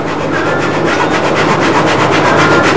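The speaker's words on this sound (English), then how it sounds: "The idea is to go ahead and rasp this down with a file" Heavy duty file rasping down plywood, a steady rhythmic scraping with regular strokes, close and loud, continuous with no talking.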